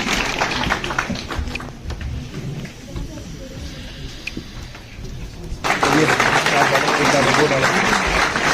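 Quieter murmur and talk first, then loud, dense applause bursts in for a professor at a college extension lecture event in Surankote and carries on to the end.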